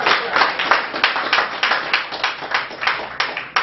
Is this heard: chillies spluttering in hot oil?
no